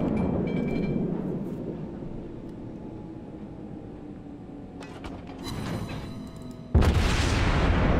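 The German battleship Tirpitz fires a main gun salvo in World of Warships: a loud, sudden deep boom near the end after a low rumbling ambience, with a sustained roar following.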